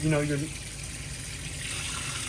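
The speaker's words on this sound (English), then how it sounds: "you turn the knob to the other direction, and you've got a waterfall" Water pours steadily from the waterfall spray of a kitchen sink faucet in a 2024 Cruiser RV Essence E-25RK fifth wheel, a continuous broadband rush that follows a brief voice at the start.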